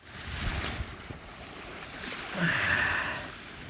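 Wind blows head-on and buffets the microphone in a low rumbling roar on the Dnipro River during feeder fishing, swelling stronger near the end, with water sloshing faintly beneath.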